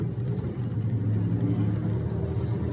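A Lamborghini LM002 off-roader pulls out into open traffic, its big engine giving a steady low, throbbing drone with a mild whir, close and continuous, no voices over it.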